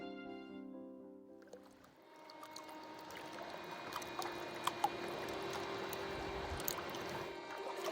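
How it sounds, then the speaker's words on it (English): Gentle water laps softly against a shore, a quiet steady trickling wash under faint sustained musical tones that fade in at the start. "listen to the water as it laps against a shore"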